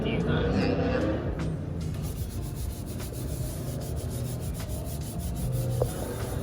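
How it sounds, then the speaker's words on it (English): Continuous scrubbing against a metal stock tank to lift sticky residue, a steady close rubbing and sanding texture lasting throughout with faint talk underneath. "that seems to be what is scrubbing off the stickiness the best"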